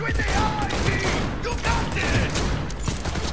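Gunfire in the video game Cyberpunk 2077 rattles as a dense, continuous burst of shots under game music and effects, with voices talking over it.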